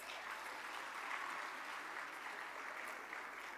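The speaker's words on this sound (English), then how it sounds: "Let's clap hands for ourselves." Steady applause from a crowd at the G20 closing session in South Africa, many hands clapping in a dense, continuous wash that holds at an even level throughout.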